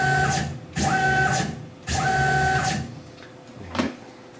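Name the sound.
Tormach PCNC 1100 CNC mill jogging along Y axis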